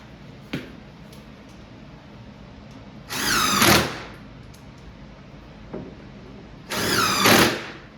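A power drill drives screws into a Pac-Man arcade cabinet in two separate whirring bursts of under a second each, close and loud. Light clicks and handling knocks fall between the bursts, and no one speaks.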